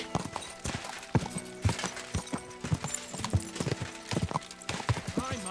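In the medieval game Kingdom Come Deliverance 2, a horse's hooves clop in a quick, uneven rhythm close by and a whinny rings out, with brief voices mixed in.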